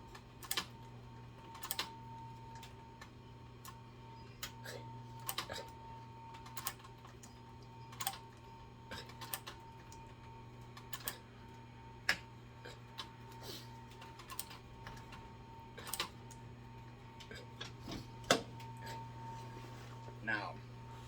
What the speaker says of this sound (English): put a little bit more stitching on the bottom here than you normally really need to